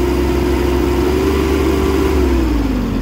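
A Japanese ISEKI 145 mini tractor engine runs steadily at raised revs, a loud, close mechanical drone with a slight pitch drift near the end and no talking.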